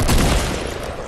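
A dense burst of video game gunfire, loud and close, a rapid rattle of shots that fades within about a second.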